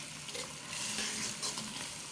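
Lentils tipped into sizzling masala and stirred in a pan for lobia dal, a steady close frying hiss with scraping stir strokes throughout, no voices.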